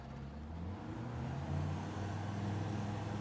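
A seaplane engine in Microsoft Flight Simulator droning like a family sedan, a low steady hum that rises gradually in pitch as the throttle opens, heard alone without voices.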